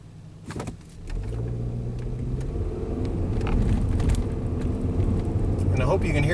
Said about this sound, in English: I hope you can hear the RPM of the engine,